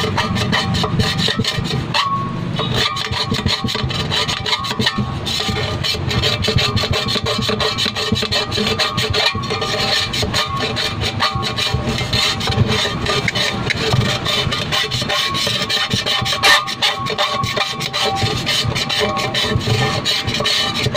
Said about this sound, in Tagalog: Pinasadahan ko ba naman siya ng grinder, brush grinder eh.